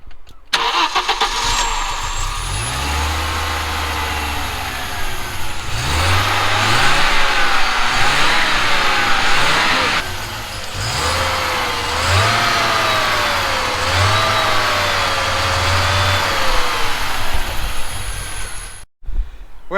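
Audi 2.2 engine with Bosch K-Jetronic fuel injection and newly fitted injectors, revved up and down repeatedly in several surging pulls that rise and fall, loud and close, with no talking.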